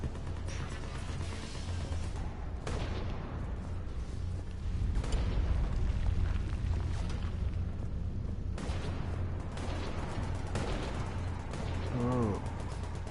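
Gunfire crackles in Mass Effect 3 as several sharp shots and booms at irregular intervals, moderately loud over a low steady rumble of ambience.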